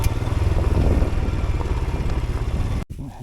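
A Royal Enfield Himalayan 411 motorcycle rides offroad, its single-cylinder engine thrumming loudly and steadily up close with a clattering mechanical edge, then dropping away abruptly near the end.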